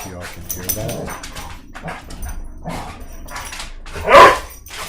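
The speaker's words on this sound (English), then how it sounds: "The dogs are fighting." Dogs barking, yipping and whimpering in a scuffle, heard under people talking, with a louder burst of barking near the end.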